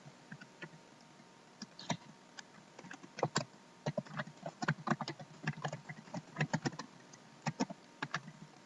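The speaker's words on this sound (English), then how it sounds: "you can just type, start typing like it's a journal" Typing on a computer keyboard in Google Docs: quick irregular runs of close, crisp key clicks with short pauses between bursts, no voices.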